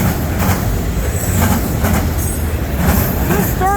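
CN 3035 freight train M357 with four distributed braking cars starting off, loud close rumble with rhythmic wheel clatter and high wheel squeals toward the end.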